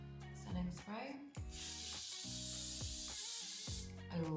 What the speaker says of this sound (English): This L'Oreal setting spray. It's like a 36-hour setting spray.